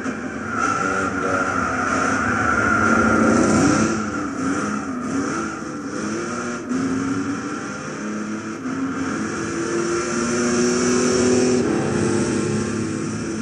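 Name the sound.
1970 Dodge Charger 440 R/T engine in video game Gran Turismo 6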